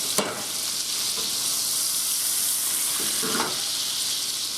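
Butter melts in a hot pan for thin-cut pork chops, giving a loud, continuous close-up sizzle with a few soft knocks of the pan being tilted.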